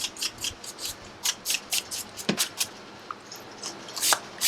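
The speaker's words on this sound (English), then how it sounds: "buff out with scissors, texturizing shears, or flipper over comb." Barber's scissors or texturizing shears snipping hair while blending a fade, a close series of short, crisp cuts in a quick irregular rhythm with brief pauses between.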